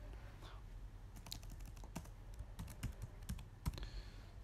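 Quick irregular key clicks on a computer keyboard, faint and close, in an otherwise quiet room with no talk.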